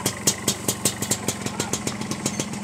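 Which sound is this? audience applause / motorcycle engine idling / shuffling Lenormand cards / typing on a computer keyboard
motorcycle engine idling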